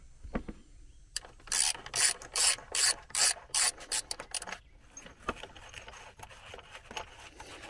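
A ratchet with a 12 mm socket undoes a bolt on a Hyundai Sonata during a battery change: a run of quick, close metallic clicking bursts in an even rhythm, then quieter scraping and handling noises.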